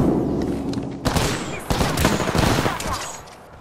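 Gunfire in the video game Apex Legends: a loud burst of rapid shots opens, then more sharp reports come in quick succession, close and punchy.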